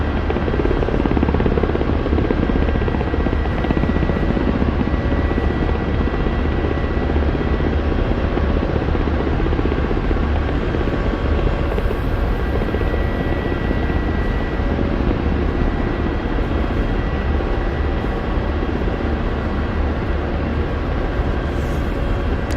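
Apache attack helicopter in a combat flight game spiralling down in a fast descent; steady, loud rotor and turbine roar fills the cockpit, unbroken and close throughout, with no talking.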